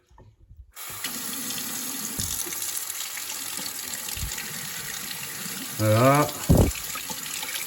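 A cold-water plumbing tap runs steadily with a close, even rushing hiss after a short start, a brief sputter near the end, and a spoken word.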